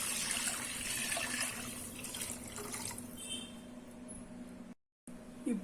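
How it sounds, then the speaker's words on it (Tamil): Water poured into a cooking pot for a street-style mushroom soup, a steady splashing stream close by that continues for several seconds before a brief cut, with no talk. "இப்போ இதில் தண்ணி ஊற்றிக்கலாம்."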